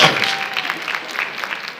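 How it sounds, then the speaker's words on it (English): Audience applause at a labour market forum event, a steady spread of many hands clapping in a room, fairly loud and continuous, slowly thinning toward the end with no voices over it. "Keep that applause going further"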